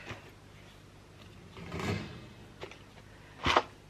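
A wooden dresser drawer in a bedroom closet being handled and pushed shut, with soft rustling and sliding, then a sharper knock as it closes near the end; close and fairly quiet.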